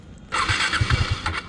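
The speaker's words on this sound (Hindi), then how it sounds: "तो ड्यूक अब स्टार्ट नहीं हो रही है" A KTM Duke motorcycle out of fuel, its starter cranking in a quick rhythmic churn of several strokes without the engine catching, loud and close.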